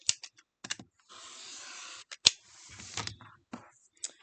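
Scissors or a cutter slicing diagonally corner to corner through quilt fabric pieces, with a long steady cutting stroke among short snips and clicks, close and clear.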